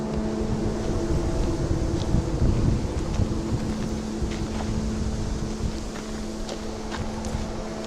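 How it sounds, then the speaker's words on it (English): Wind on a breezy day at a farm near a forest, a steady rushing and buffeting roar across the microphone with slight gusts, with a faint steady hum underneath. "It's nice and windy day"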